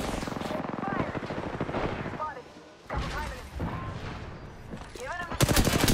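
Video game gunfire crackles in rapid, continuous bursts at close range, under steady in-game voice chatter and game sounds, with a louder burst of shots at the end.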